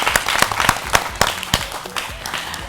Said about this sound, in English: So please, a round of applause for our top 14.